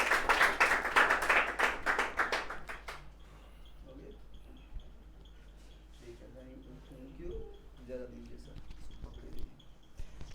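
An audience at a student honour ceremony at Hari Om Classes in Handia, Prayagraj claps loudly for a topper for about three seconds, then the clapping stops and people talk over a quiet room.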